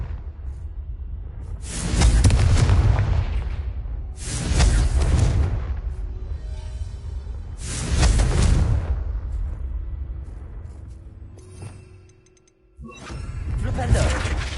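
In Hogwarts Legacy, the Confringo fire spell bursts repeatedly in booming blasts with a whooshing crackle, four or five heavy explosions spaced a couple of seconds apart, loud and close.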